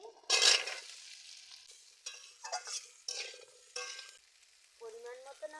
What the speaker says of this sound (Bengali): কেটে রাখা আলুগুলো তেলের উপর দিয়ে দিচ্ছি